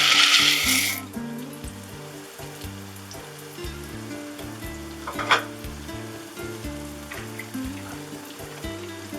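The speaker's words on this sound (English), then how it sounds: "I don't cover the pan while boiling the pasta." A pan of uncovered spaghetti boiling for koshary bubbles and sizzles steadily, a soft continuous hiss with occasional pops and a brief louder splash early on.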